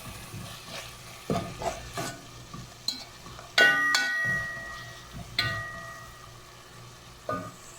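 Chicken and cauliflower are stirred in a pan over a steady sizzle, with repeated close scrapes and metallic clangs of the utensil against the pan, some ringing briefly.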